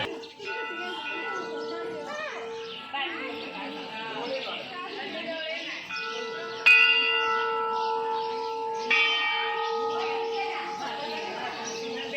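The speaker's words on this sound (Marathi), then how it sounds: "मयूरने देखील घंटा वाजवली, पण पहिल्यांदा वाजवलं काय वाजली गेली नाही" Temple bells ring repeatedly with sustained, shimmering tones, a few sharp strikes standing out, while people talk quietly in the background.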